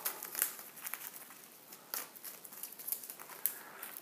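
A deck of about 44 game cards for a solo board game is shuffled, giving soft, quiet riffling and crisp flicks in several brief bursts.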